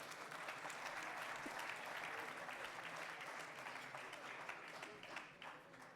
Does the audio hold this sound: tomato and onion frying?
no